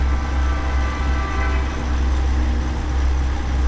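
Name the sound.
train passing in video game American Truck Simulator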